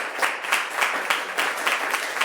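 A church congregation applauding during a Sunday service, a brief burst of many hands clapping in a loose, uneven rhythm, fairly close and without talk.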